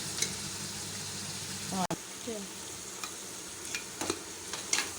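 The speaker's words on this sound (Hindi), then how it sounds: "ये फ्राई करते हुए मेरे पायों को 6-7 मिनट हो गए।" Beef trotters frying in ghee with garlic and ginger, a continuous sizzle with a few stirring clatters and one abrupt knock, while a voice speaks briefly.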